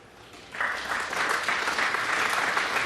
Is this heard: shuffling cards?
no